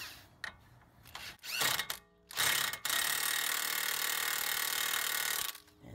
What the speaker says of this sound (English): We're going to tighten that axle nut up.